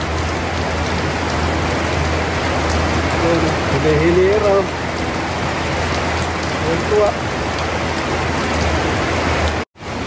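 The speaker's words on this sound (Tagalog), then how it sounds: "Lakas ng ulan." Heavy rain pours steadily on a pigeon loft and aviary, a dense, loud, even hiss with faint bird calls in the middle and a voice speaking briefly.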